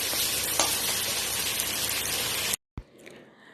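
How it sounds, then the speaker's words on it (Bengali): Chopped onions frying in oil in a pan over a medium flame, a loud steady sizzle that fills the clip, then cuts off abruptly and returns faint and uneven. "পেঁয়াজটা একটু ভাজা হতে দেবো"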